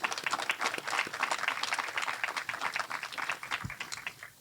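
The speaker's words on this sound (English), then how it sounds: "Let's give them a round of applause, students." Graduation ceremony crowd at a magnet high school applauds parents and family, steady moderately distant clapping filling the hall throughout and gradually thinning toward the end.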